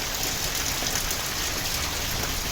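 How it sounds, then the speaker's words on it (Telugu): Steady, dense rainfall hisses continuously, a heavy downpour in Visakhapatnam with no pauses. "ఈ వర్షం అలా కంటిన్యూ పడుతూనే ఉంది"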